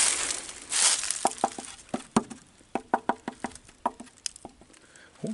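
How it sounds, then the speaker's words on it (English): Sharp, irregular knocks and rattles ring out from an old engine oil pan with loose debris inside, a dozen or so close metallic taps and clinks spaced unevenly with brief gaps between them. "Oil pan sounds like it still got something in it."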